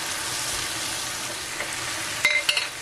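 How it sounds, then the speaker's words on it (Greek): Food sautéing in a pan gives a steady, close, continuous frying sizzle, with a couple of brief clinks from stirring near the end and no talking. "Και αφού άλλαξε ο ήχος, δηλαδή έχει αρχίσει να τσιγαρίζεται"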